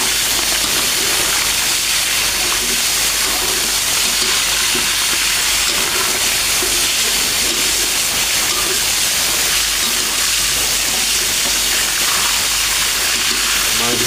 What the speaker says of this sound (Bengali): আমি আমাকে মাংস ভাজার শব্দটা শোনাচ্ছি